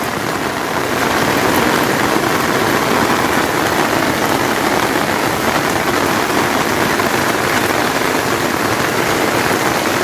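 Steady, heavy rain pours continuously on a mountain road in the Naran Kaghan area, a dense, loud hiss of drops with no pauses.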